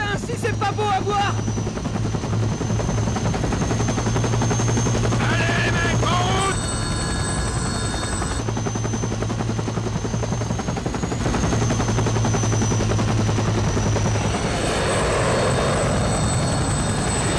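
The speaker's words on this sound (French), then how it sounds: "ça sent la mission en hélicoptère" A helicopter in the video game Conflict Vietnam whirs with a steady, loud rotor drone that runs throughout, layered with in-game mechanical and effect noises.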